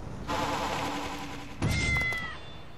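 Cartoonish cat meows from the LEGO Marvel Avengers game, a long sustained yowl followed by a sharper, brighter meow with rising and falling pitch, loud and close, with no talking over them.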